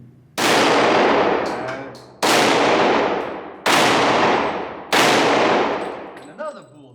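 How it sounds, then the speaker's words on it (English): Four loud, close Glock pistol gunshots at target practice, each a sharp crack followed by a ringing decay, spaced about one and a half seconds apart, with a faint metallic clink near the end. "I don't know what else I expected from a Glock. It's fantastic. It shoots fantastic."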